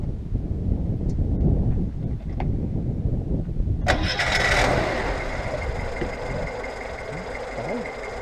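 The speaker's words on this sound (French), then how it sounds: "on va la démarrer pour voir si au niveau du bruit, on a à peu près le même rendu" An Oltcit car engine cranks and starts partway through, then settles into a steady, fairly close idle with a rich broadband rumble, after low background noise before the start.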